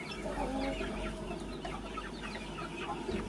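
Scratchy, rapid guinea fowl calls chatter repeatedly from a flock, fairly close, over a steady background hum.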